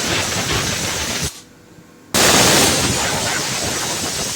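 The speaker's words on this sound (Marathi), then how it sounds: "कुकरला 4 शिट्या काढून घेऊ." A pressure cooker cooking mutton for a Sangli-style rassa lets off steam in a loud, sustained hissing whistle that cuts out briefly, then bursts back in even stronger and keeps going, close by.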